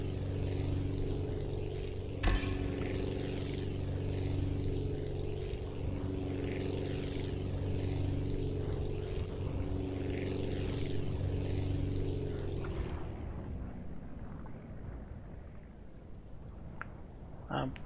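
A propeller aircraft drones steadily in the video game Aviassembly, a low, even buzzing hum that holds for about twelve seconds after a sharp click, then drops away to a quieter, thinner background.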